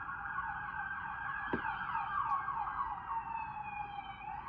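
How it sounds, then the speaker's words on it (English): Emergency vehicle sirens wail steadily in the distance, a continuous rising and falling tone heard alone with no talk over it. "Starting to hear the emergency response vehicles in the distance."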